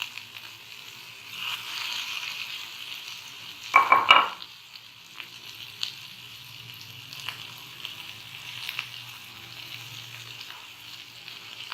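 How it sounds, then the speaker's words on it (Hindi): Falafel frying in oil in a pan, a steady soft sizzle throughout with a brief louder clatter of utensil handling partway through. "ये पहले हमने एक साइड इसका अच्छी तरह फ्राई करना है।"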